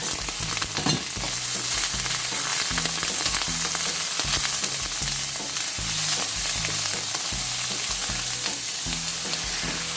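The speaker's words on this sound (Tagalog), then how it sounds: "igigisa natin konti yung ating sitaw" String beans being sautéed in a pan with garlic, a steady loud sizzle running throughout with repeated stirring scrapes and clatters at an even rhythm, no voices.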